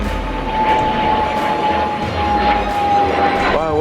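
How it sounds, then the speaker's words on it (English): An airplane drones steadily overhead during a severe thunderstorm warning, a constant low rumble with a sustained engine whine lasting throughout; a voice talks briefly over it. "it sounds like just a plane"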